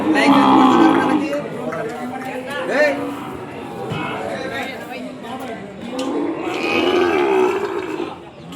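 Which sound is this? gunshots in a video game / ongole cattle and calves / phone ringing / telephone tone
ongole cattle and calves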